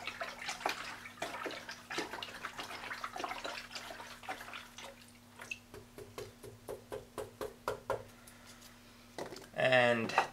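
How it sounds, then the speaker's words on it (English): Liquid seaweed extract being stirred into hydroponic nutrient water for a giant pumpkin setup, heard as a run of soft, rhythmic watery sloshes and splashes close by over a faint steady hum, ending in a brief louder burst of swirling water. "So I'm just gonna give it a stir."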